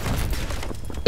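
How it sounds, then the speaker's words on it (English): In Battlefield 3, an RPG rocket blasts apart an entire wall, a loud booming explosion with rumbling debris that rolls on, then another sharp hit right at the end. "One RPG rocket and that entire wall is gone"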